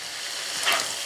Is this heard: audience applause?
no